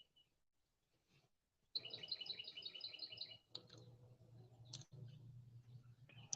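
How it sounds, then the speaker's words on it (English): A little bird chirps in a fast, high trill close by, followed by a few scattered chirps over faint low background rumble. "You hear that little bird chirping?"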